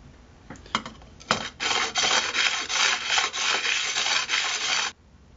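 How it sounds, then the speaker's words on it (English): A hand plane blade is sanded on sandpaper, moving up through the grits toward a polish: a close, steady abrasive scraping in a sustained run of back-and-forth strokes after a few light taps. "I'm going to move on progressively up the grits of sandpaper and give it a nice polish"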